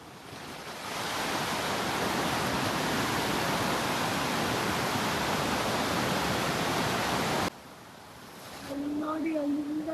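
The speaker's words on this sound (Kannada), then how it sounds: "ನೋಡಿ ಅಲ್ಲಿಂದ ನೀರು ಬರ್ತಾ ಇದೆ" A waterfall near Kukke Subramanya roars as a loud, steady rush of water for most of the stretch, then dips briefly before swelling again while a voice begins speaking near the end.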